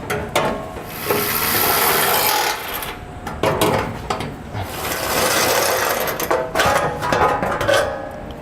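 Tools work on bolts beneath a 2016 Ram 2500 pickup during a 5th wheel hitch installation, giving close, loud ratcheting and scraping mechanical sounds in bursts with short pauses and no talking.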